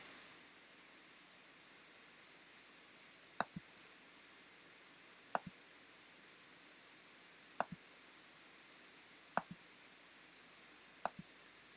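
A computer mouse clicks about a dozen times, single and double clicks spread unevenly over a quiet hiss of room noise, close and sharp.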